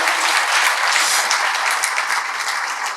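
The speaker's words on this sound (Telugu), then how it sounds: "అమ్మ ముందు గట్టిగా మీకు సార్కి యూనివర్సిటీకి మొత్తాన్ని గట్టిగా క్లాప్స్ కొడదాం" A university audience breaks into loud, sustained clapping after being urged to applaud the guests; dense applause fills the space and tapers slightly toward the end.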